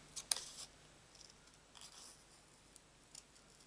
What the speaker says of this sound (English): So all we've got to do while that all dries is cut out this bow. Now I cut it on the line.